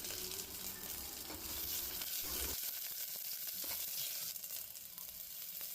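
Garlic, ginger, onion, coriander and green chilli sauté in a hot pan, giving a continuous close sizzle with occasional stirring scrapes throughout, no talk.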